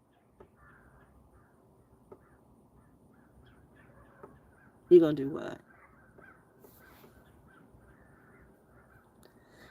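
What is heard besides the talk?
crows cawing in the background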